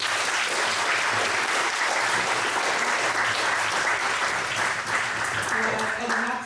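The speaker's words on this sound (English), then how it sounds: "Can we get a round of applause?" Dense, steady applause from a crowd at a student senate candidate debate night, sustained at an even level for several seconds with faint voices mixed in near the end.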